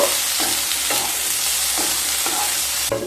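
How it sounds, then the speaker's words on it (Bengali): Garlic, ginger, tomato and spices fry lightly in a pan with a loud continuous sizzle, marked by regular stirring strokes about every half second, with no voice. "সমস্ত মশলাগুলোকে হালকা ভেজে নেব।"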